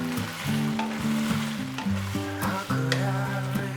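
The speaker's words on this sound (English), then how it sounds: "Remember, just stir it in." Pre-cooked cauliflower is stirred into sizzling lychee chicken in a pan, giving a continuous frying sizzle with light stirring scrapes, close by, under steady background music.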